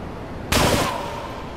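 A single loud gunshot from a sniper rifle in the video game GTA 3, a sharp burst with a brief fading tail over low background game ambience.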